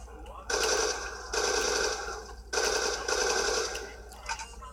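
Bursts of rapid automatic gunfire in a Call of Duty Black Ops 2 Zombies match on the TranZit map, two long sustained volleys separated by a short gap, loud and close, followed by a few scattered shots.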